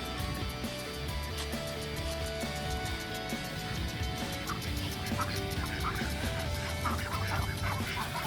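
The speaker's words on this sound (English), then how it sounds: "go and visit the ducks" Ducks quack around a well-kept pond at a resort in Bali, calling repeatedly through steady outdoor ambience at moderate distance.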